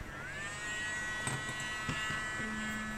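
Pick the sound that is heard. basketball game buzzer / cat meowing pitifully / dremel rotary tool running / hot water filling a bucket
dremel rotary tool running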